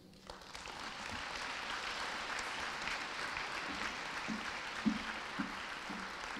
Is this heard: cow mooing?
no